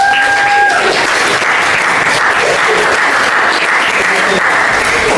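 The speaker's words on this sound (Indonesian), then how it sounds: "tepuk tangan untuk Yesus" Steady, loud applause from a classroom of students during a Catholic religious education lesson, dense and continuous for the whole stretch after a brief tone at the start.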